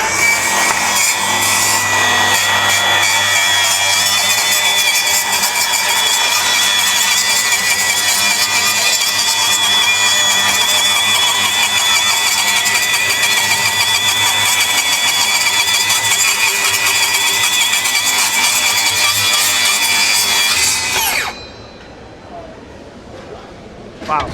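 Milwaukee power saw cutting along an 8-foot wooden board studded with 94 nails, a loud continuous whining buzz that runs for about twenty seconds before cutting off abruptly, with voices under it.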